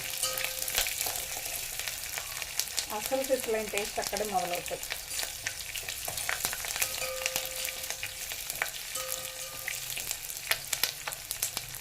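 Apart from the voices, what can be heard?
spice tempering frying in oil for red sorrel dal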